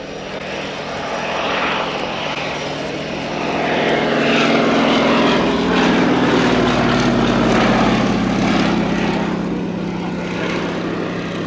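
A Fairey Swordfish Mk.1 biplane flies at an air display, its propeller engine droning loud and steady, swelling as it passes nearer before easing slightly, with no talk over it.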